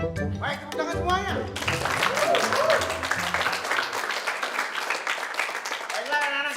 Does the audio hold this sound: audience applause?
yes